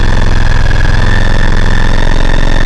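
A motorcycle engine idles steadily from cold at close range, a loud, even low rumble that holds without revving for the whole stretch.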